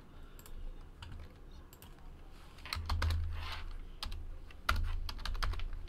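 Computer keyboard typing to look up a number, a steady run of clicky keystrokes over a low background hum, fairly close.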